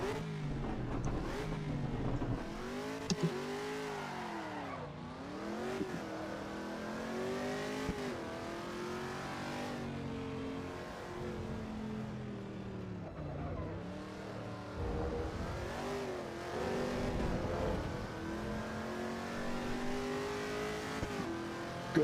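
A Chevrolet Camaro in the racing game Assetto Corsa Evo, traction control off, revs loudly and continuously, its engine note climbing and falling through repeated gear changes with short squeals.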